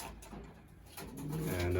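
Racing pigeons coo softly in a loft, low murmuring calls building toward the end under a faint background hum.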